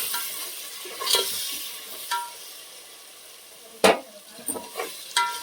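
Softened tomatoes being stirred in a pan for a curry, with a few scattered spoon scrapes and clinks over a soft, steady sizzle.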